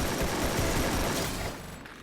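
Gunfire in the Free Fire battle royale game, with a dense, loud burst of rapid shots filling about two seconds before trailing off slightly at the end, with no talk.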